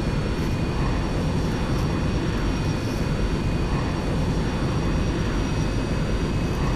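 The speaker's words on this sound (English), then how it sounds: "let's taxi away to the runway" Airbus A380 taxiing to the runway in a flight simulator video game, a steady, continuous jet engine whine and rumble held at an even level throughout with no talk.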